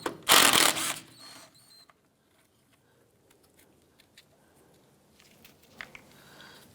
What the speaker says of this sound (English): From underneath the center of your lower control arm, there's going to be two 13mm bolts. Let's remove those.